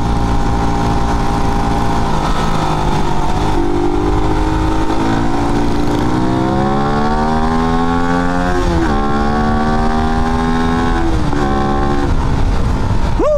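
A Raider 150 FI motorcycle engine fitted with ram air revs up and down at close range, loud rising and falling harmonic whine with repeated throttle blips, no talking.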